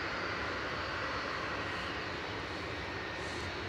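EasyJet Airbus A320, about ten years old, lining up for takeoff at Manchester Airport, a steady broadband engine roar heard at a distance, faint and unbroken.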